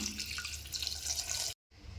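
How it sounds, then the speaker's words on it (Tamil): Steady running water from a tap pours into a pot for about a second and a half, then cuts off briefly before flowing again; close and fairly loud, no voices. "இது மூழ்கிற அளவுக்கு தண்ணி விட்டுக்கலாம்"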